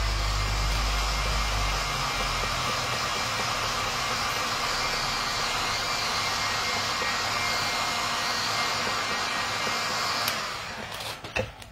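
A hair dryer blows a loud, steady whooshing roar close by while drying paint on a wooden egg, running continuously for about ten seconds before it shuts off, leaving a few faint handling clicks.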